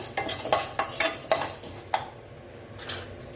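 A spice and tamarind premix for vatha kuzhambu being stirred in a pan, a string of sharp close scrapes and clinks of a spoon against the metal over a soft background sizzle.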